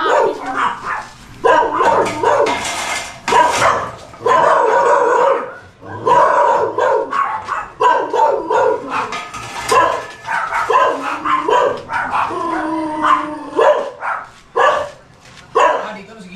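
A dog barks, yips and howls in repeated bursts close by at a house where a terrace is being built, with people talking in between.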